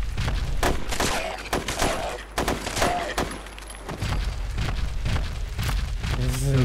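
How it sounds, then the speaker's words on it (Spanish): Assault rifle fire rattles in Fallout 4, with sharp, loud bursts of rapid shots spread across the stretch, some clustered in quick volleys, while someone talks briefly near the end. "Ese es el rifle de asalto"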